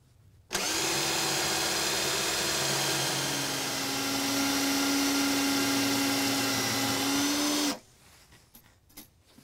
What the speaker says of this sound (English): So we're going to now drill it with the resistograph and see what kind of results we get.